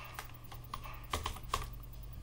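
Keys clack on a computer keyboard in a short, irregular burst of typing, quiet and close, with a couple of slightly louder strokes and no talking.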